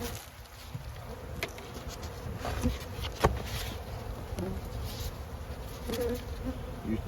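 Honey bees buzzing inside an opened hive, a dense continuous hum of many insects close by, with occasional individual bees droning past and small knocks and handling sounds.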